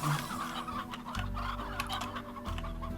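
Chickens in the video game Slime Rancher cluck repeatedly in short, close bursts from a coop, layered over steady game background music.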